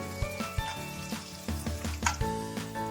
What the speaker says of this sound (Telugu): కలుపుకుంటూ 2 నిమిషాలు ఫ్రై చేసుకోవాలి.